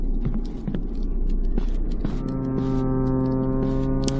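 Low droning horde sound in the horror game Project Frequency, a steady throbbing hum with sustained tonal layers and scattered ticks and thumps, fairly loud with no talk over it.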